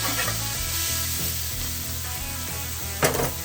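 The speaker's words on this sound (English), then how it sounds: "now I will finish the steak on the griddle" Steak sizzles on a Pit Boss Sportsman 3 portable gas griddle, a steady close frying hiss with a few scraping tool sounds and a brief louder crackle near the end.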